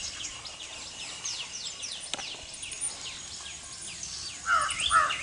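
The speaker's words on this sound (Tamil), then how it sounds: "இப்பறவைகள் பல்வேறு விதமான ஒலிகளை எழுப்பக்கூடியது." Common iora calls, a rapid series of thin chirps and whistled notes repeating over a quiet outdoor background, with a brighter burst of song near the end.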